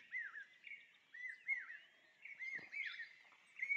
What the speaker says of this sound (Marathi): पक्ष्यांचे आवाज ऐकायला येत आहेत.